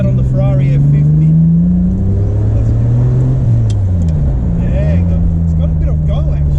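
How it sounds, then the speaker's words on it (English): A Ferrari 550 Barchetta's V12 engine drones steadily while driving, a loud continuous hum that rises and falls slightly with throttle, with wind rush and a voice talking over it. "It's a torquey car. Just love driving a V12."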